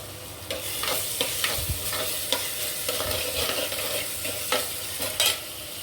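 Masala sautéing in a pan for South Indian fish curry (meen kuzhambu), a steady close sizzle with repeated spoon scrapes and stirring knocks spread through the whole stretch, no talking.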